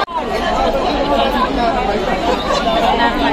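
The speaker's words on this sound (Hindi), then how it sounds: "आप लोग देख सकते हैं इतना ज्यादा भीड़ है" A large crowd outside the Raj Mahal palace in Ambikapur fills the air with dense, steady chatter of many voices, close by and loud throughout.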